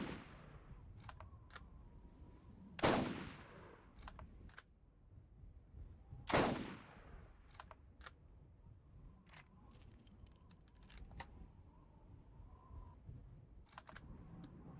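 Two sharp sniper rifle shots ring out in a video game, spaced a few seconds apart, over faint mechanical clicks and low background hum.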